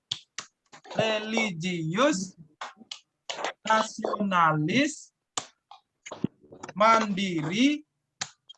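A class in an online school lesson performs a rhythmic 'tepuk PPK' clapping chant. Sharp, evenly spaced claps fall between bursts of chanted words, so voices and clapping alternate throughout.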